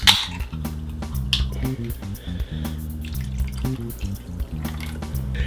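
Mellow Yellow soda pours into a glass to top off a Scott Palmer, an Arnold Palmer-style cocktail, a steady liquid splash with faint trickles, heard under a continuous music bed.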